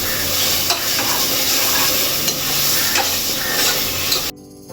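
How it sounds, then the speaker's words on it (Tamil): Ingredients for chicken biryani sauté on a low flame with a steady, close sizzle and scraping stirs that run on evenly before cutting off abruptly near the end. "நல்லா சிம்மில் வச்சே வதக்கலாம்"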